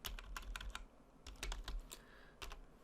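Quick bursts of typing on a computer keyboard as a command is entered, close and crisp, in two short runs of keystrokes with a brief pause between them, no voices.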